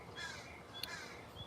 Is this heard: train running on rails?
no